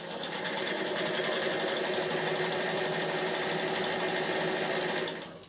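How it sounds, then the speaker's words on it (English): A Bernina 840 sewing machine stitches the beading side of a buttonhole in one steady, fast mechanical whir. It runs alone and close for about five seconds, then stops. "So number 1 is going to do your beading down the left-hand side."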